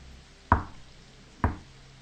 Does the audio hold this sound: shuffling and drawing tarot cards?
no